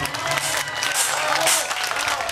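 Steady applause from a crowd at a henna night celebration, continuous and fairly loud for a couple of seconds, with some voices mixed into the clapping.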